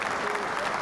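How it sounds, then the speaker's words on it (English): Brief burst of audience applause in a giveaway show's garage studio, dense clapping held at a steady level for under a second. "let's give them a round of applause"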